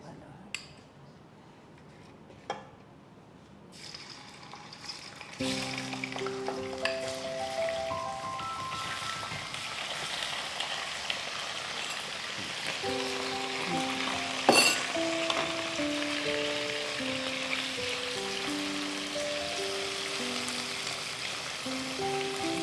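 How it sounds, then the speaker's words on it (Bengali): Marinated chicken dropped into hot oil bursts into a loud, continuous sizzle after a few quiet seconds, crackling on steadily while a soft melody plays underneath. "তেল মোটামুটি গরম হয়ে গেছে, এবার ম্যারিনেট করা চিকেনটা দিতে হবে"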